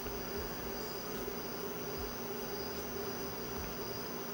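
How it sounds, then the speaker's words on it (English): Crickets chirping loudly outdoors through an open window set close to a microphone, a dense, steady insect drone with pulsing trills that continues unbroken and close throughout. "yes, there are crickets. They are very loud"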